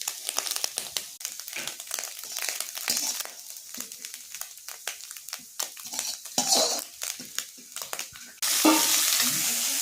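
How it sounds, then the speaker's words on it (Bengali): Small fish fry in a pan with dense crackling and sizzling, mixed with frequent clinks and scrapes of a utensil against the pan, close and fairly loud, the sizzle swelling sharply near the end. "ফাইনালি আমাদের মাছটা ভাজা হয়ে গেছে"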